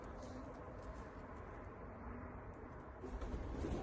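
Racing pigeons of an Austrian line coo softly in their loft, low murmuring calls under a steady background hum that grows a little louder near the end.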